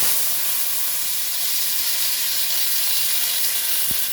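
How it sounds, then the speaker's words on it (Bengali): Onions fry in hot oil over already-toasted spices such as dried red chili and five-spice seeds, making a loud, steady, even hiss of sizzling with one brief low thump near the end. "মশলাটা আমার ভাজা ভাজা হয়ে গেছে, এর মধ্যে দিয়ে দেবো পেঁয়াজ।"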